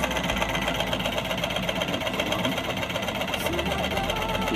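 A Janome NuiKiru sewing machine runs in a steady mechanical drone, its fast needle motor humming continuously and fairly close throughout.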